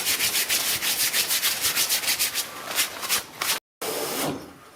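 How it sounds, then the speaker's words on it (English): A cloth rubbed briskly over crusty, dried-on stroller fabric gives a fast rhythmic scratchy scraping in steady strokes, loud and close, with a brief break near the end. "I'm actually gonna wipe it down with like a cloth or something before it goes into the washing machine, because some of it's pretty crispy, you can hear it."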